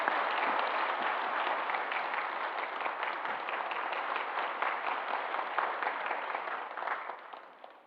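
Warm applause from a church congregation during a Sunday worship service, welcoming a newly registered member; steady, dense clapping fills the room throughout and tapers off at the end.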